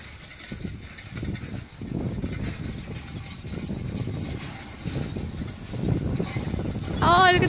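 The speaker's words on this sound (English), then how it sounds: "You know what you do when you see six big horses coming your way?" Six large draft horses pulling an Amish plow on a farm, hooves clopping in a steady rhythm amid field noise, with people talking over it.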